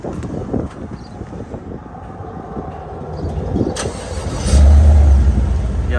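Chevy Silverado with a Flowmaster exhaust starting up, with cranking and a rough idle followed by a loud, deep, steady engine growl after it catches.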